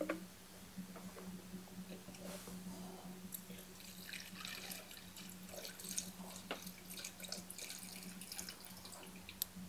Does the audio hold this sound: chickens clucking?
no